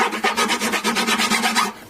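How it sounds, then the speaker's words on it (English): A concave fret end file rasps across the beveled fret ends of a made-in-Japan Daion Gazelle acoustic guitar during a refret, in a steady run of about ten close, even back-and-forth strokes heard alone. "There's a nice concave fret end file. And it sort of just takes the sharp edge of the bevel off"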